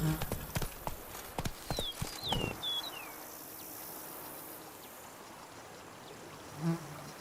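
Horse hooves clip-clop in quick, close rhythm in Witcher 3, with a few brief high chirps, then the hoofbeats stop and a low wash of ambience and a soft thud remain.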